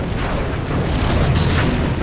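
Gunfire in the Halo video game comes as a dense, loud stretch of booming shots and bursts that stays heavy throughout, with one brief dip partway through.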